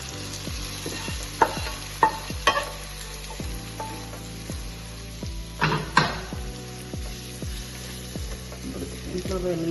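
Hot tempering poured into a tamarind leaf chutney sizzles steadily and close, with sharp utensil clicks and scraping stirs repeating throughout.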